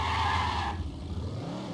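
Car in a video game, with a loud engine whine and tire skid at the start that drop off sharply into a lower, steadier driving rumble.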